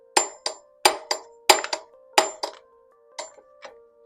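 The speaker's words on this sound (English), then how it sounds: "And tap the bolt." A hammer taps a bolt during a generator engine rebuild, giving about a dozen sharp, ringing metallic clinks in uneven pairs and singles. They are close and clear, with quiet between the strikes and the last few softer.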